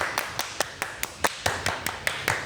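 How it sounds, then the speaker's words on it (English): About a dozen sharp hand claps in a quick, slightly uneven rhythm, close by and loud, with no talking. "clap your hands."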